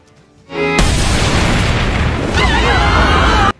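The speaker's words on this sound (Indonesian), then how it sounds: "Tembakan tersebut membuat Angelica hampir terjatuh." A single huge gunshot blast in an animated fantasy film erupts after a brief quiet start and roars on as a sustained, loud, booming wash for about three seconds before cutting off abruptly.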